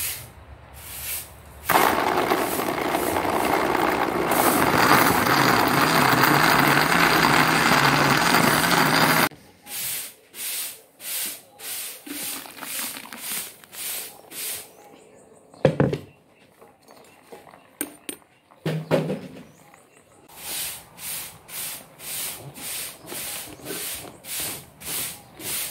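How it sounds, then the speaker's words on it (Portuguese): A household blender whirs loudly for several seconds, blending acerolas with water, then stops, followed by quieter clatter and intermittent knocks and sounds. "Coloquei aqui, ó, as acerolas já com a água pra me bater no liquidificador."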